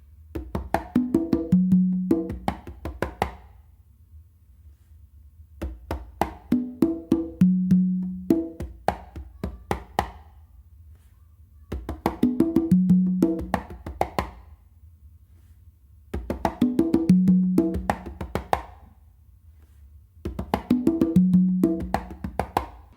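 Three congas play a songo rhythm in five repeated phrases of quick, crisp slaps and resonant open tones, each burst followed by a short gap, played solo and close.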